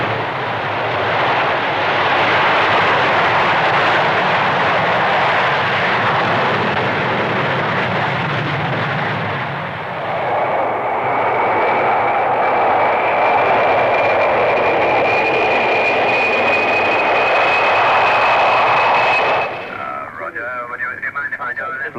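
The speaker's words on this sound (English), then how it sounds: "This V-Bomber Scramble shows the speed with which Bomber Command is able to get a deterrent force into the air." V-bomber jets scramble for takeoff at a 1960s Farnborough airshow, a loud sustained roar that swells and shifts pitch as the aircraft pass and climb away, with a commentator speaking over the noise.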